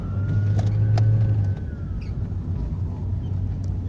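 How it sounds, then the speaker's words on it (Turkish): A manual car sits stopped on a hill with the clutch pressed as its engine revs, giving a steady, close, low droning hum that rises and falls slightly. "Gaza dokandım. Debriyaja basıyorum."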